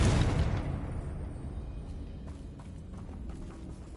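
A Confringo spell blast explodes in the video game Hogwarts Legacy, one loud boom at the start that decays into a low rumbling tail with faint background game sounds.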